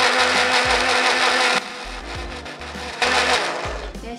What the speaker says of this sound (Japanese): ミキサーをスイッチオン、いきます。